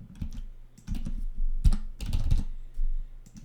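A computer keyboard clatters with quick, uneven bursts of keystrokes as a password is typed in while setting up a Windows 10 backup to a network share; the tapping is close and alone, with no talk.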